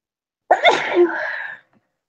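A single close, sharp sneeze bursts out of silence and trails off after about a second.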